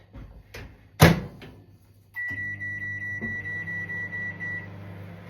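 A countertop microwave oven is started for baking vegetables: a sharp clack of the door closing and a few beeps, then a steady hum of the running oven with a high whine, close and alone.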